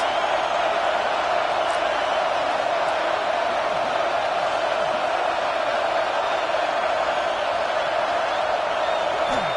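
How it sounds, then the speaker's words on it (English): Football stadium crowd at a Michigan vs Penn State game roaring for the defense on a big third down in the red zone, a dense, steady wall of cheering throughout. "this crowd is getting behind this defense"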